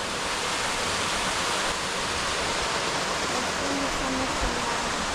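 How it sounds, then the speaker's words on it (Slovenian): Small waterfall tumbling into a pool in the limestone Glinščica gorge, a steady close broadband rush of falling water with no pauses, loud and constant. "tale prelep tolmunčak in pa slapič oziroma tobogan"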